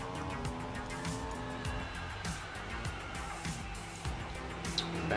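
A Bugatti in Roblox Vehicle Simulator drives with a steady, droning engine tone and rising and falling harmonics, set low in the mix under continuous game noise.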